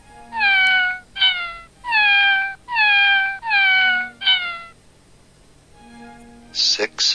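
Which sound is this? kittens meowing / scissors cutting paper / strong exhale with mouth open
kittens meowing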